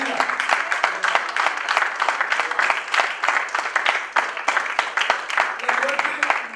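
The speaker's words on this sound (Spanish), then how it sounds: "esto sí requiere un aplauso para él" A church congregation applauds with dense, steady clapping that fills the room, mixed with voices and a speaker talking over it.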